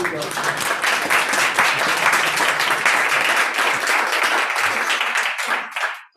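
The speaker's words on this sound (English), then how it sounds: "Applause to you." A late-night conference audience at a French-German relations event gives a loud, sustained round of applause that stays dense and even before tapering off sharply at the end.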